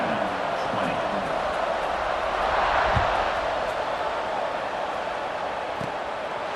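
A stadium crowd at a college football game between Duke and Indiana makes a steady, broad roar around kickoff, heard under a play-by-play announcer's voice.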